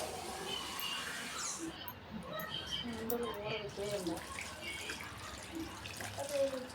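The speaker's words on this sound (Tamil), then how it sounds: "நல்லா பிசைஞ்சு விட்டு இப்போ தேவையான அளவுக்கு தண்ணி ஊற்றிக்கலாங்க." Water poured from a vessel onto masala-coated vegetables for sambar, a steady faint trickle and splash lasting several seconds, heard close and alone.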